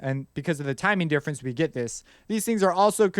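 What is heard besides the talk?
None of the usual background noises is heard.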